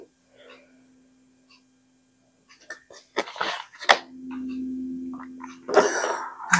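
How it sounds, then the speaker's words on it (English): Water gulped by a podcast host close to the microphone, with wet throaty swallows and gargling-like bursts after a near-silent pause, loud and intimate. "I hate when I be like big gulping in y'all ear."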